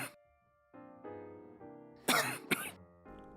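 A person coughs in reaction to choking on something swallowed the wrong way, with a couple of sharp, loud coughing bursts near the middle among quieter throat sounds and breaths.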